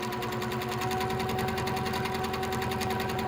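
A sewing machine free-motion quilting leaf shapes hums in one continuous, rapid mechanical chatter, close and steady throughout with no pauses.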